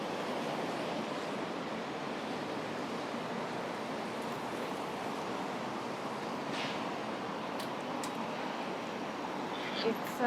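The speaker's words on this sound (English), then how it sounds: "It's quite a windy day, so you might hear that on the mic in the background." Steady wind roars and buffets against the microphone on a windy city street, forming a continuous broadband rush with a few faint clicks and no clear voices.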